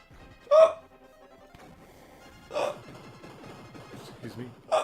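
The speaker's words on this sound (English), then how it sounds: "I have hiccups." A person hiccups three times, sharp short bursts spaced about two seconds apart, close to the mic, with soft talk and faint game sounds in between.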